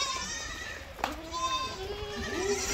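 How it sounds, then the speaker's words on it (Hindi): A goat bleats at a goat breeding farm in Virar, with wavering cries rising over a busy background of nearby voices and children. "बहुत प्यारी बकरी भी है।"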